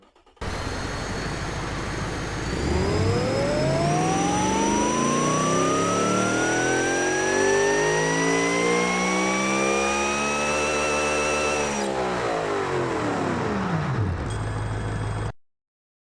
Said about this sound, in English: let's give you a listen to this little illegal 572 drag spec engine right now